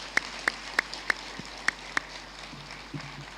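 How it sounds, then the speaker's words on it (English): Sparse applause at an academic scientific conference: a handful of crisp, separate hand claps at a steady pace, followed by faint low murmuring in a quiet hall. "can we give her a round of applause?"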